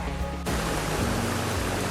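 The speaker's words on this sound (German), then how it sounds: "Also der Weg wird zum Bach oder der Bach wird zum Weg." A stream of water running over a footpath in Georgia, a steady broadband rush of flowing water close by, continuous and fairly loud with no voices.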